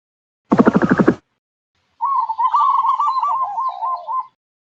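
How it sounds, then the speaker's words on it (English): A dove coos in a soft, wavering, low call lasting about two seconds, preceded by a brief, buzzy harmonic burst and a short pause, heard clearly and alone. "Dove."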